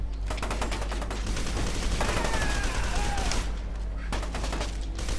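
Rapid automatic gunfire in the first-person shooter F.E.A.R. 2, dense rattling bursts with brief gaps, loud and close, with a faint voice underneath.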